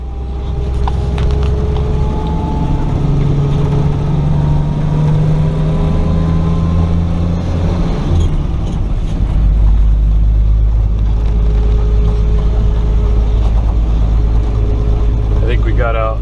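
A 1958 Chevy barn-find truck drives along, its engine rumbling loud and steady with low drone and gear changes throughout, close up from inside the cab, with people talking over it.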